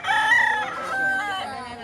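A medium-sized stag rooster, about ten to eleven months old, crows once loudly and close at the Lipa Livestock Auction Market in Batangas, a long harmonic call that breaks into a second rising segment.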